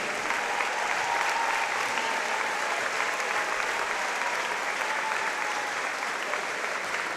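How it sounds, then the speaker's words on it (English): Sustained applause from a basketball crowd honoring the Johns Hopkins Blue Jays at the 2019 Centennial Conference men's championship, a steady dense wash of clapping that holds evenly for the whole stretch. "Let's have a round of applause for Johns Hopkins University."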